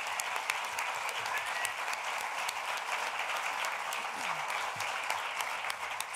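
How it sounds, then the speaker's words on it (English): A panel audience applauds steadily, dense clapping from many hands filling the room without letup, a few voices faintly beneath. "Can we clap one more time for our panelists?"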